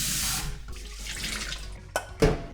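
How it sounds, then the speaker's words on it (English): Rinse water pours off washed rice through a colander in a home kitchen, a rushing splash that fades into trickles, followed by a couple of brief knocks and clatters nearby. "Then we're going to drain this using a colander."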